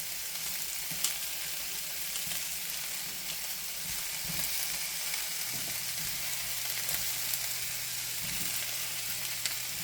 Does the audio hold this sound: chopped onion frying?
yes